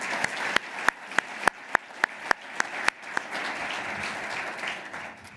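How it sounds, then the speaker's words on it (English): At a CEO of the Year award event in Minneapolis, a single person nearby claps in sharp, evenly spaced strokes over a softer audience wash, which then swells into steady, full applause for the final seconds. "a round of applause for that group of folks over here"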